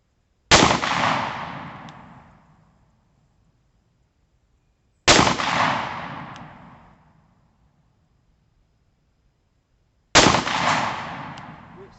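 Three loud, sharp gunshots from a Taurus 605 Protector Poly revolver firing .357 Magnum rounds at a steel target 100 yards away, evenly spaced about five seconds apart, each decaying with a long outdoor echo.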